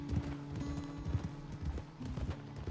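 Hoofbeats from a horse in Red Dead Redemption 2 fall in an even, repeating clip-clop rhythm, near and clear over a faint humming tonal bed.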